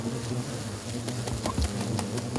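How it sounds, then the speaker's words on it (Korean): Loud, close buzzing of many Asian giant hornets swarming at a school in Seoul, with dense droning wings and occasional sharp bursts as individuals fly past. "순식간에 그물망을 가득 채운 장수말벌들."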